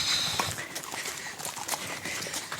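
Many horses' hooves clatter together on a road in St Albans, overlapping clip-clops in a loose, uneven rhythm, moderately close against light outdoor background noise.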